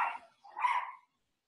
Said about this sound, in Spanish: un perro en la calle.